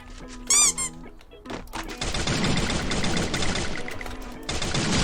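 Gunfire in the mobile battle-royale game Free Fire, a dense burst of rapid shots running for several seconds after a brief high squeak, loud and continuous with no talk.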